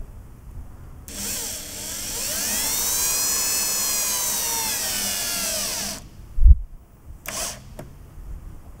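A power drill drives screws into a thin spoilboard on a ShopBot Desktop CNC machine, one sustained high whine of about five seconds that climbs and settles, then a thump and a few short bursts, close and loud with no talk.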